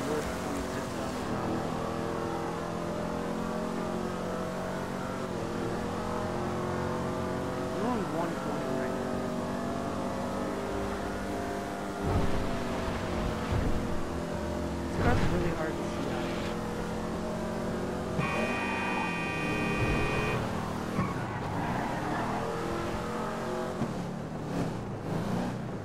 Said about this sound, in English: This car sounds so good with the custom exhaust